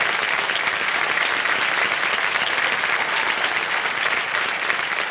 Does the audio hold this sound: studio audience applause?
yes